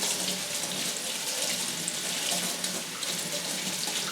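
Tap water runs steadily over the roots of a Phalaenopsis orchid, a close, even splashing stream that continues throughout with no voices.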